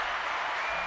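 A short burst of steady clapping from a livestream audience, dense and even throughout with no voices on top.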